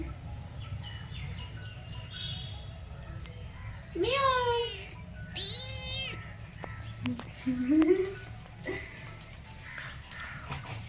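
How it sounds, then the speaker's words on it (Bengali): A house cat near a kitchen gives several drawn-out meows, two long rising calls followed by a shorter one, over a low steady hum. "এটা আমাদের বিড়াল"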